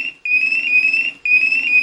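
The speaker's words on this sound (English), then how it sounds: "sensors go into alarm" A gas detector's sensors going into alarm emit a loud, steady electronic tone in two long pulses separated by a brief gap, each a shrill sustained beep with a low buzzing undertone, alone with no talk.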